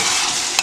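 A tofu dish being mixed in a pan, a brief burst of steady sizzling with a quick scrape of the spoon near the end.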